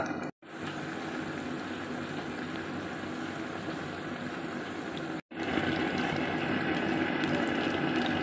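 Cauliflower frying in hot oil in a kadai, a steady loud broadband sizzle that runs throughout, broken by two brief silent gaps.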